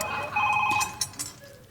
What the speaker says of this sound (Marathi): तुझा फोन वाजतोय, उठ.